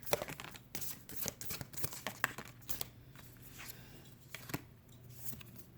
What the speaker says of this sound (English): I'm going to grab a Starseed Oracle card for guidance